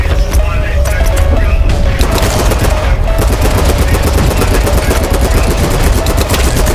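Loud, dense bursts of rapid gunfire crackle over continuous explosive rumble, with shots in fast rhythmic runs, in the video game BattleBit Remastered.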